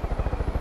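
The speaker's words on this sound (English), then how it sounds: "looks like that heli crashed. Oh, no, it's still following us." Helicopter in the game Far Cry 5, rapid regular rotor thumps about a dozen in quick succession, close and loud, with no talk over it.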